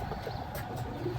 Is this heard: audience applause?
no